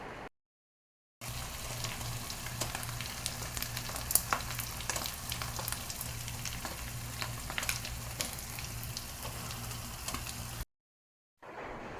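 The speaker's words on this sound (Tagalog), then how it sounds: "Ipiprito ko muna tong egg." Three eggs fry in a wide pan, giving a steady, close, even sizzle with faint crackles throughout. Brief silent gaps come at the very start and end, and no one speaks.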